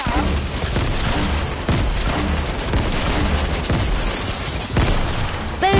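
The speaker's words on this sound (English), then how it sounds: "Now I got a grenade launcher." A grenade launcher fires repeatedly in a video game, with a rapid string of booming blasts and explosions and no letup, loud and close.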